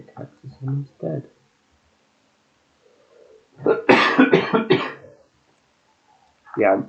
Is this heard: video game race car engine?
no